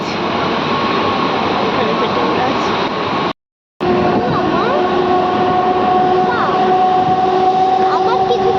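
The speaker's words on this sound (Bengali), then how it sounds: "এখানে ট্রেনটা না ব্রিজের ওপর দিয়ে যাচ্ছিল" A passenger train crossing a bridge, heard from inside a nearly empty carriage as a steady, loud rumble and rattle with a brief cut partway through and faint tonal squeals later on.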